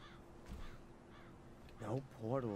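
Harsh, cawing bird calls sound in a swampy setting in Black Mirror III, a couple of short cries early and a louder pair near the end, over quiet ambience.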